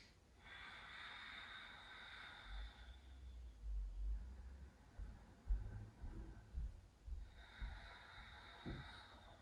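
Slow, audible breaths during a held yoga pose, soft inhales and exhales through the nose at a quiet, steady pace, close and faint with no talking.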